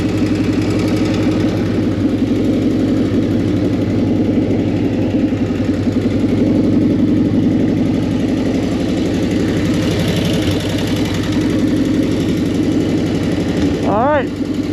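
A 1940 flathead engine idles steadily after its fuel is shut off, running on what remains in the carburetor bowl. The throb stays loud and even throughout, with a brief rising squeal near the end.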